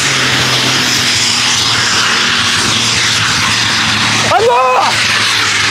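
A loud, roaring tractor-pulling engine drones steadily at close range at a tractor pulling event in Silly, with a crowd's voices and a brief shout over the top.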